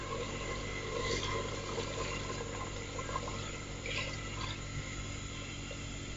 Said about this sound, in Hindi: तो अब हम इसमें शामिल करेंगे पानी